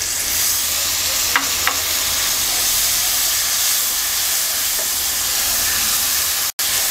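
Spice paste with chili, turmeric and coriander powders and a splash of water sautés and is stirred in a hot pan for a taro-stolon and eel curry, giving a steady close sizzle and hiss with a few faint clinks.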